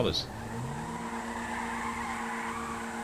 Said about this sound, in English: this is one of those cars that can donut properly without needing to hold any brakes on